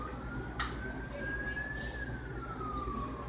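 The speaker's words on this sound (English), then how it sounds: "Every time you hear that siren" A steady siren wails in the distance, its tone rising slowly and then falling, over a low background rumble.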